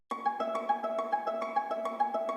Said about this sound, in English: Then there's the violin, where I used the pizzicato again, where I played this pattern.